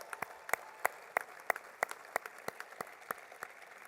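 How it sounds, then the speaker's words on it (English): Sparse outdoor applause at a street dedication ceremony, a small scattering of distinct individual claps with irregular rhythm, fairly faint and distant, with no talk. "Let's give him a round of applause,"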